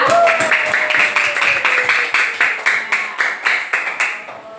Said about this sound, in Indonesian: Tepuk tangan untuk kelas 5A.